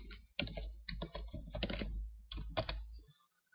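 Typing on a computer keyboard during Bluetooth setup on a Windows 7 PC, a close run of quick irregular key clicks in short bursts that stops after about three seconds.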